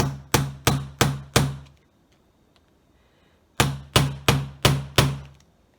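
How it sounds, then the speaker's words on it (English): A small hammer strikes a metal punch in two sets of five quick, evenly spaced taps, separated by a brief pause. "And we're just going to go ahead and hammer that."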